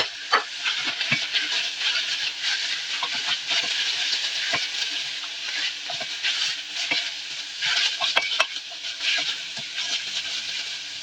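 Cheese and onion sandwich filling sizzles steadily in a pan, a continuous bright hiss and crackle with scattered pops and occasional stirring clicks, close and fairly loud, with no talking.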